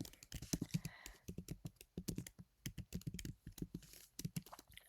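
Quick typing on a computer keyboard, dense bursts of close key clicks with short pauses between runs.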